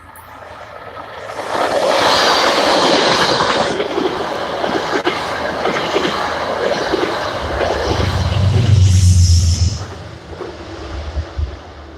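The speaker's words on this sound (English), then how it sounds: "Shoreliners with the diesel pushing." A Metro-North Shoreliner commuter train pushed by a GE Genesis P32AC dual-mode diesel locomotive passes Botanical Gardens station, a loud sustained rumble and wheel roar that builds quickly, peaks with a deep engine throb near the end, then fades.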